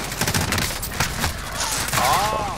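Rapid gunfire in Call of Duty Modern Warfare multiplayer, heard as a quick stream of close shots with voices talking over it.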